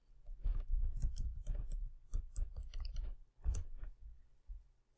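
A computer keyboard being typed on, with a quick burst of crisp, close key clicks in irregular rhythm, then a short pause and a few more presses, loud and alone.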